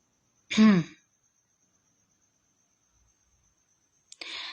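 A single short cough from a person hosting a live stream, close and fairly loud, followed by nearly three seconds of silence and then a brief burst of noise at the end.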